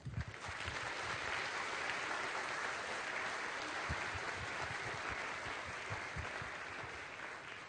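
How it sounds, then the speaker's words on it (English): Steady applause from a graduation audience at Seoul American High School honoring families, a dense even patter of many hands clapping that carries on alone for several seconds. "Please join me in a round of applause for these families."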